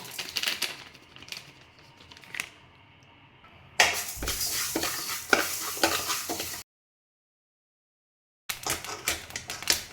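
Fenugreek seeds are dry roasted in a pan, giving light scratchy rattles and stirring scrapes in irregular bursts, separated by stretches of near silence.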